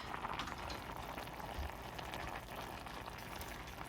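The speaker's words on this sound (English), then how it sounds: "About an hour of simmering." Vegetable soup with cabbage and rehydrated dried vegetables simmers in a pot, giving a steady, faint bubbling that continues without a break.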